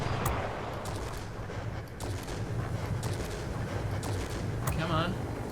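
Rapid aircraft gunfire from a Ho 229 plane in World of Warplanes, continuous dense rattling over a droning engine throughout, with a player talking over it.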